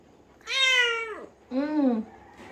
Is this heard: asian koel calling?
no